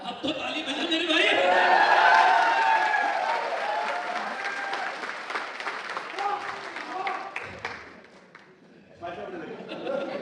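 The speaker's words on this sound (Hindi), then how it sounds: "अब तो ताली बजा मेरे भाई।" An audience at a network marketing business training session breaks into applause, loud at first and then gradually thinning and fading, with scattered chatter and chuckles mixed in before the room quiets and clapping briefly resumes.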